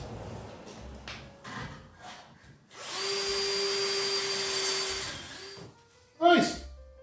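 A power drill whirs steadily for a few seconds as a screw is driven into plasterboard, with shuffling and handling noises before and a clunk after.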